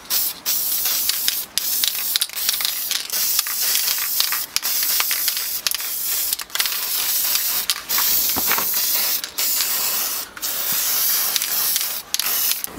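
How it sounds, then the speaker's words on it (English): A spray can of plastic primer hisses onto a model dragon in long bursts, loud and close, with brief pauses between sprays and no talking. "Now I'm going to spray the top side with plastic primer."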